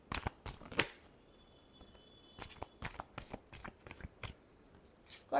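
Tarot cards being shuffled in bursts of crisp riffling and flapping, several quick shuffles close by with short pauses between them.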